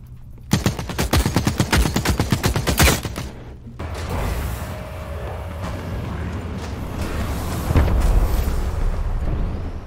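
Rapid automatic fire from a phasic weapon in The Cycle: Frontier, a fast burst of sharp cracks lasting about three seconds, followed by rumbling, booming aftermath and scattered distant shots.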